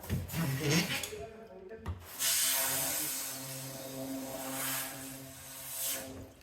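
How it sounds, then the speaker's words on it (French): Water jet rinsing out the tube of a Tapepro drywall taping bazooka, a steady broad hissing spray that runs almost the whole time, close and fairly loud, with a brief break in the middle. "Ça ne m'empêche pas de mettre un petit coup de jet dedans."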